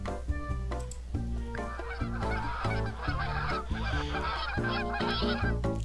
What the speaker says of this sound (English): A flock of geese passed over us, noisy and energized.